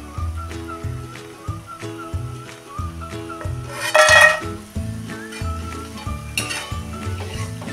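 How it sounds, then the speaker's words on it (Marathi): Spiced mathri flour snacks deep-fry in oil with a bubbling sizzle, while a ladle stirs and clinks against the pan, one loud scrape-rattle standing out midway. "म्हणजे हे मटरी आपली तळून होत आली"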